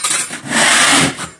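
Small spatula scraping old finish off a wall, a harsh dry rasping stroke that swells and fades over about a second, close and fairly loud, with no voices.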